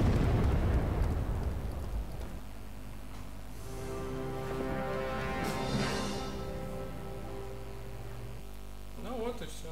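A loud rumbling explosion in the video game Sniper Elite opens the clip and fades into a low sustained hum and crackle, with a faint burst near the end.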